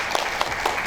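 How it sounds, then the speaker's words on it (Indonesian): An audience at a school Quran graduation ceremony claps for the children, a short, dense burst of steady applause with no voices. "tepuk tangan dulu dan untuk anak-anak kita"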